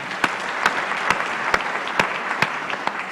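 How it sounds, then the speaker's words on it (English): A conference audience at the Africa Health Agenda International Conference applauds steadily, a dense crowd clapping throughout with a few sharper, louder claps standing out at regular intervals near the microphone. "Another round of applause."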